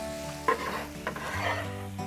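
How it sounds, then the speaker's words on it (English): Eggplant slices sizzle steadily on a grill pan over a maxed-out flame, a close, continuous frying hiss with a few soft knocks of the pan. "You got that beautiful sound as they sizzle away."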